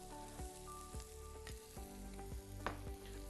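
Finely chopped garlic sautés in about a spoonful of melted butter, sizzling steadily. Repeated stirring knocks and scrapes sound against the pan at a regular pace, with a low steady hum underneath.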